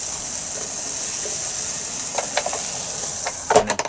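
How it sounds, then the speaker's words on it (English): Hot dogs and corn mix sizzle in a Red Copper 5 Minute Chef, a steady close hiss of frying with a few faint clinks and scraping stirs near the end. "nice sizzle"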